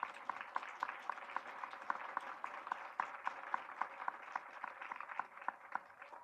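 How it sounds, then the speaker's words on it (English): A modest audience at a retirement community anniversary celebration applauds honored residents, with steady, fairly sparse claps that are quiet and somewhat distant. "Let's give them all a round of applause."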